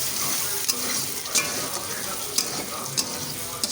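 Chopped onion and green chilli sizzle steadily in hot oil in a pan, a constant close hiss broken by a few light clicks of a spoon stirring.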